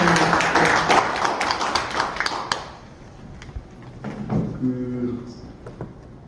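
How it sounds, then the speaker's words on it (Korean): Audience applause at a parliamentary forum on anti-Japanese independence medals, a short burst of many hands clapping that fades after a few seconds, followed by a few scattered claps and knocks while a voice begins to speak. "네, 박수 드리겠습니다."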